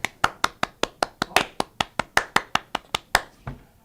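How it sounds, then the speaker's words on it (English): A single pair of hands claps in a steady, brisk rhythm, about seventeen sharp, dry claps close by, with no voices and only a faint background. "Let's give a Skeeter round of applause for all the students who participated."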